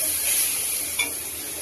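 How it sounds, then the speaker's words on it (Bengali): Mango pickle being stirred with spices in a pan over a low gas flame, a continuous soft sizzle with faint scraping and one brief clink, close up and without talk. "হালকা আঁচে সমস্ত আমের সাথে মশলাটা ঠিক এরকমভাবে মাখিয়ে নেব।"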